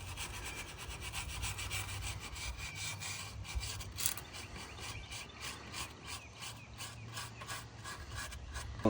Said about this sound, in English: So now we're just cleaning up the maintenance surface, getting all this white stuff and dust and dirt, everything off.